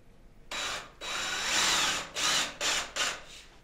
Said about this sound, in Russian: Просверливаем в газобетоне отверстие под дюбеля.